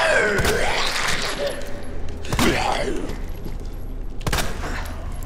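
Gunfire from Resident Evil 2 Remake, played as Ada Wong: three loud, sharp shots spaced roughly two seconds apart, each with a short ringing tail, over a steady game ambience.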